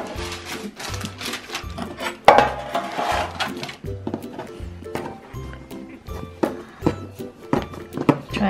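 A knife slices through rolled cinnamon roll dough onto a board, making repeated dull thuds and soft cuts in a fairly steady rhythm, close by and with no talking.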